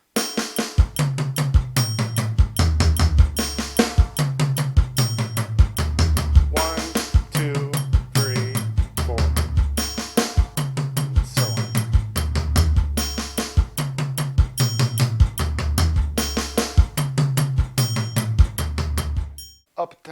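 Drum kit sticking pattern at 150 bpm, steady even strokes around the drums with a kick drum filling every fourth hit, repeating in a tight loop for about nineteen seconds before stopping.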